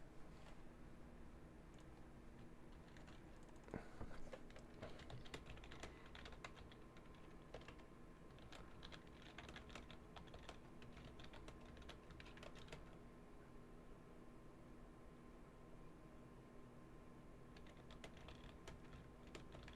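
Typing on a computer keyboard, quiet irregular clicks and key taps in bursts with a brief pause near the end, close and soft, no voices.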